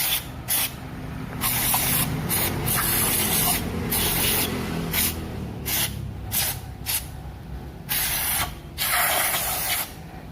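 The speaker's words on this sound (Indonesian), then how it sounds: "Habis dikendorkan lubangnya kita semprot menggunakan cairan supaya bersih." Cleaning fluid sprays in repeated short bursts into the throttle body of a Daihatsu Taruna EFI. About a dozen loud, close hissing blasts of varying length are broken by brief pauses.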